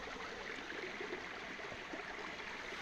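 A stream flows over quartz-strewn rocks in a Turkish creek valley, a steady, moderately quiet rush and gurgle of water that stays even throughout, with no voices.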